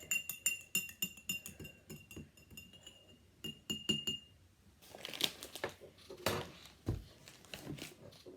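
A metal spoon stirs sugar into a glass of water, making quick repeated clinks against the glass in a steady rhythm, then softer scraping and a few sharper taps, close and clear with no talking.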